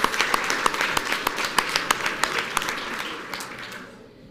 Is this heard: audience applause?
yes